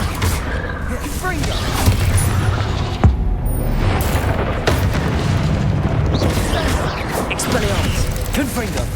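A Confringo spell explosion from the Hogwarts Legacy video game, heavy booming blasts amid dense combat noise, loud and continuous, with a sharp hit near the third second and a voice calling out spells.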